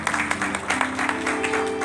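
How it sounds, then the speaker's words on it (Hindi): An audience at a World Book of Records event in Indore for a singer applauds loudly, with many hands clapping in a dense, slightly pulsing patter that continues from start to finish. "जोरदार ताली हो जाए।"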